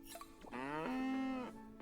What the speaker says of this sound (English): Moo. Moo. They're just real noisy.